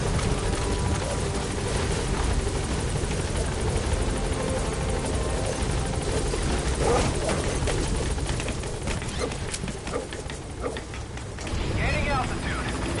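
The Pequod helicopter in Metal Gear Solid 5 flying overhead, a loud steady rotor roar and thrum filling the scene, with gunfire-like crackle and spoken dialogue layered over it.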